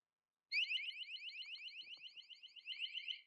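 A budget water leak detector's loud, rapid warbling electronic alarm starts abruptly when a wet finger shorts its sensor and keeps sounding, with a faint tap or two in the background.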